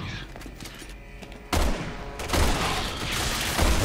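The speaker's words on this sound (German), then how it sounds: "Da hat doch jetzt irgendwas auf mich hinten geschossen." Gunfire in Resident Evil 6, a burst of shots that sets off abruptly after a quieter stretch and then continues as dense, loud volleys with several sharp hits layered over game noise.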